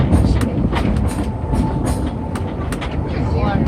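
Disneyland Railroad train rolling along its rails through a jungle section of the park, a steady rumbling clatter of wheels on track running throughout, close and fairly loud with faint scattered sounds on top.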